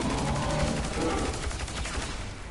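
Rapid gunfire from a weapon in the shooter game Destiny, a dense loud burst of closely spaced shots running continuously and tapering slightly at the end, with some faint speech underneath.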